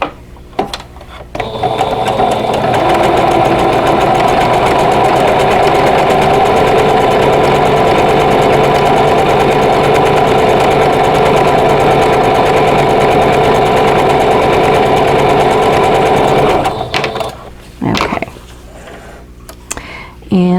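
An embroidery sewing machine stitches a Christmas cottage block, its needle chattering in a fast, steady mechanical rhythm for about fifteen seconds before stopping, with brief clicks and handling noise at the end.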